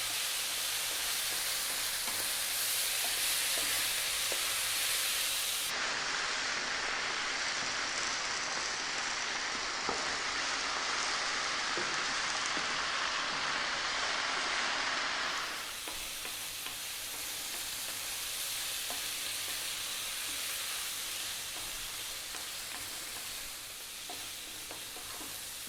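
Chicken, fresh chili and pan contents stir-fry over high heat for chicken fried rice, giving a steady, loud sizzle with faint scraping of stirring throughout and no talking.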